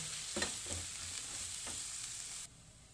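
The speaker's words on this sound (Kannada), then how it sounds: "ಹಾಕ್ಕೊಂಡು ಒಂದು ಸ್ಟಿರ್ ಕೊಡೋಣ." Dry ground spice powders stirred into a hot pan for mutton sukka: a steady frying hiss runs throughout, broken by a few soft scraping strokes, then drops away abruptly near the end.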